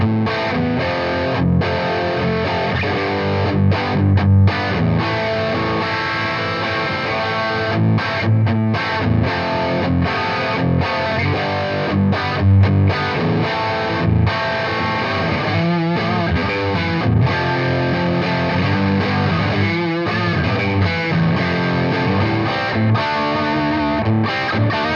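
A different electric guitar runs through the Fender Duel Pugilist distortion pedal, playing a long, loud riff of heavily distorted chords with rhythmic stops and choppy palm-muted bursts.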